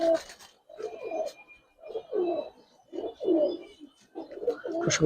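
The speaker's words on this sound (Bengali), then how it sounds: "ওই যে কবুতর আছে, 4টা সুন্দর কবুতর দর্শক।" Pigeons in a loft give repeated low, throaty coos in several rounds, close by and fairly clear, with faint bird chirps in the background.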